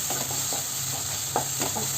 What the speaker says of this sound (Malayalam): മസാലയും ചേർത്തിട്ട് ഇതിനെ ഇളക്കി നന്നായിട്ട് മിക്സ് ചെയ്ത് യോജിപ്പിച്ച് കൊടുക്കണം.